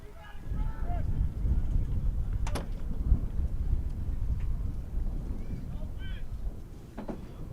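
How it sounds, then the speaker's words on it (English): Wind rushing and buffeting a microphone at an outdoor night high school basketball game, a steady low rumble with squeaks and faint sounds of play, under a commentator's voice. "Wind's kicked up since the sun went down"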